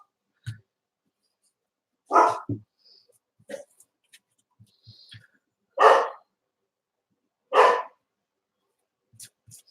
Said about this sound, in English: And then he gets the other ones barking.